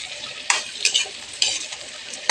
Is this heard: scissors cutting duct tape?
no